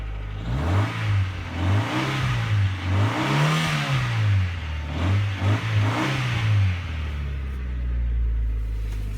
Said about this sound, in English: put a new muffler on the car, but somebody deleted the resonator a long time ago. It's a little pea shooter exhaust.